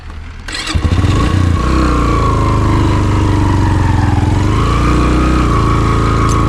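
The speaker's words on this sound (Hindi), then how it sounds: "ये जीप्स थोड़ी आगे जाती हैं, फिर मैं चढ़ाता हूँ बाइक को।" A motorcycle engine labours steadily and loudly up a steep, muddy jeep track in Neelum Valley, its revs holding high and rough with slight dips, close and continuous with no talk.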